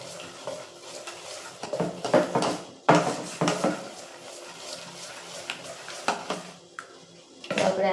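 Dhokla batter is stirred with oil in a bowl, with repeated wet scraping and knocks of a utensil against the bowl in an uneven rhythm, close and moderately loud, with no talking.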